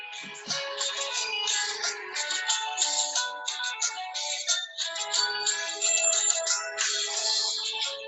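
A mobile phone ringtone plays a bright, repeating electronic melody for several seconds, fairly loud and alone, interrupting a class.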